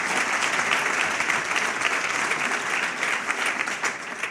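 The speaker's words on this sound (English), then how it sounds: "Let's give it another round of applause for the Supervisor." Steady applause from a town address audience, a thick continuous roar of clapping hands at consistent loudness with no break.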